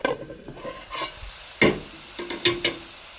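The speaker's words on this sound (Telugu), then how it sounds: "మనకి మంచిగా అయితే ఉల్లిపాయ బ్రౌన్ కలర్లో వేగిపోయింది" Onions for mutton curry fry in a pan, browning, with a soft sizzle broken by a few sharp scrapes and clatters of a spoon stirring, close and fairly quiet.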